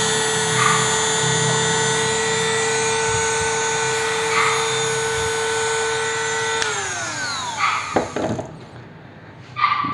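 A Ryu RDG 3.2 mini die grinder, a cheap straight grinder, runs with a steady high-pitched electric whine, then winds down near the end as the motor is switched off, followed by a few handling clicks.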